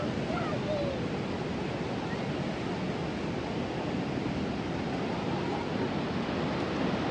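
A strong mountain stream rushes through a canyon trail area, a dense, constant roar of flowing water heard close and without letup.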